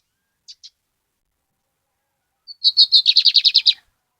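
A lined seedeater (bigode espoleta) calls with two short chirps, then after a pause breaks into a rapid, bright trill of repeated notes, close and clear with no voices.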